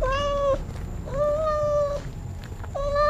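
A cat meows three times in clear, drawn-out cries with short pauses between them, close and fairly loud over a quiet background.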